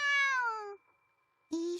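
A kitten named Eru meows in a visual novel game: one long, sliding meow, then after a short silence a second, brief meow starting. Both are close and clear, with no talking.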